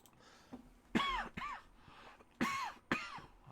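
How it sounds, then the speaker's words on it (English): A person coughs and clears their throat in a few harsh bursts, with quiet pauses in between, close to the microphone. "Coughing my brains out."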